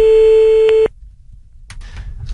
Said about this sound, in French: Et donc, Pamela, là, il faut y aller, j'espère qu'il va répondre